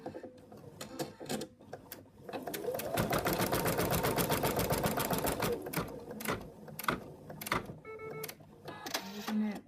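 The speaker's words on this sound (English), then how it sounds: "Color 11 is going to stitch out the placement for the ear" An embroidery machine stitches the ear placement outline for a Monty the Monkey design, a dense, steady mechanical chatter of rapid needle strokes that builds and runs continuously at close range, with brief pauses and clicks at the edges.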